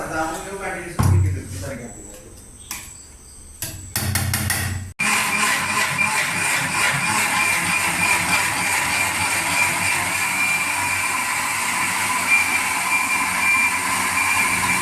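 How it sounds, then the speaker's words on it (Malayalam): A few clicks and knocks, then a mixer grinder whirs loudly and steadily for about ten seconds, grinding a spice mixture with a little water into a paste for Kerala fish curry. "നമ്മളിത് നല്ലവണ്ണം മിക്സിയിലിട്ട് പൊടിച്ചെടുക്കാൻ പോവുകയാണ് ഈ മിശ്രിതം"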